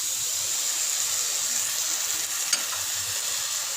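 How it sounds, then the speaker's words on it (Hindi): Soy sauce, chili sauce and vinegar stirred into vegetables frying in a pan, giving a steady close sizzle and hiss with faint stirring scrapes and one brief clink. "और सिरका डालकर अच्छी तरह मिक्स कर लेते हैं।"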